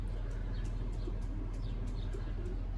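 A racing pigeon back from a 290 km race from Morlincourt, France, coos softly a few times against a steady low hum inside a garage, with no talk.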